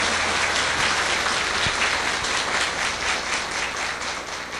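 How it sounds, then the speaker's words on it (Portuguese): Audience applause at a spiritist lecture, a continuous, even roar of many hands clapping, fairly loud and sustained throughout, easing slightly near the end. "Uma salva de palmas para os nossos amigos que estão conosco."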